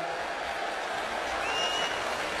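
A large baseball stadium crowd of Hiroshima Carp fans in Chiba cheers and applauds, a continuous roar of clapping and voices spread out across a wide space.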